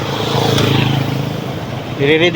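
A motorized tricycle's engine runs close by at night outside a town fiesta, a steady idle that dips slightly, while people talk over it near the end.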